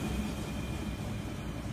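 Old-fashioned steam train in Transport Fever 2, heard as a steady, continuous low rumble of rolling rail cars with a faint high hiss, no voices over it.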